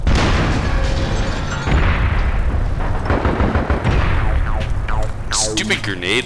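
Grenade launcher rounds firing and exploding in the online shooter APB, a dense, loud run of blasts and booming gunfire layered over constant game noise and voices.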